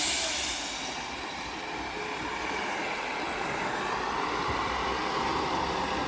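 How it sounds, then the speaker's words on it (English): A Northern class 158 diesel train pulls into York station, a broad, steady rumble and rushing roar filling the platform, loud and continuous with no voices. "Arriving in now will be a terminating Northern train 158 from Scarborough via"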